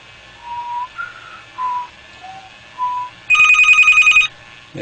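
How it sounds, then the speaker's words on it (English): A phone ringing with a warbling electronic tone, a burst of rapid trilling after several shorter chirps, fairly close and clear. "So the phone is ringing."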